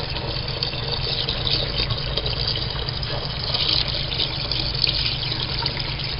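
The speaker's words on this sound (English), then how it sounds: "This is warm water straight out of the tap." Warm tap water pours steadily from a faucet into a homemade wine mixture, producing a continuous, loud gushing splash with no talk.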